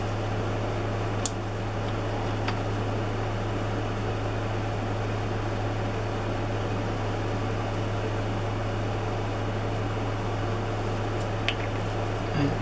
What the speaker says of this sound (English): You can probably hear my air conditioner came on.